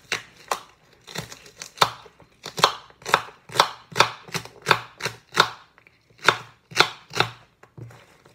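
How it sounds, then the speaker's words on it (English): Vegetables chopped on a board for a green smoothie, a string of about twenty crisp, close knife strikes in loose rhythmic bursts with short pauses between, no talking. "Continue to chop everything."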